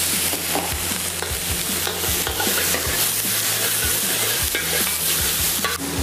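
Fried spare ribs being sautéed in a pan produce a continuous close sizzle, broken by clacking stirs and scrapes of the utensil against the metal.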